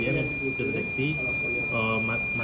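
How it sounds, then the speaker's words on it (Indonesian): The buzzer on a heart rate monitor device sounds as a steady, thin, continuous high tone running under a person speaking. "LED warna merah dan buzzer juga menyala"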